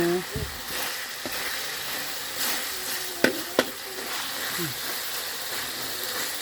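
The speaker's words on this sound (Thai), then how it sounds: "ทอดหมู" Pork fries in hot oil with a steady, fairly faint sizzle and occasional stirring clanks and splatter, while people talk nearby.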